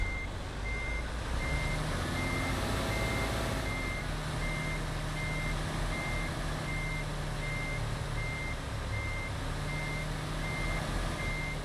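A big rig turns around in American Truck Simulator, its reversing alarm sounding a steady series of evenly spaced beeps over a low rumbling diesel engine, with no talking.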